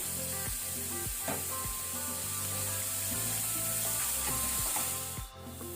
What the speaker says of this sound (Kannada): ಆನಂತರ ಅನಿಯನ್ ಈರುಳ್ಳಿ, ಇದನ್ನೀಗ ನಾವು ಮೀಡಿಯಂ ಫ್ಲೇಮ್ ಅಲ್ಲಿ ಲೈಟ್ ಬ್ರೌನ್ ಆಗೋ ತನಕ ಫ್ರೈ ಮಾಡಬೇಕು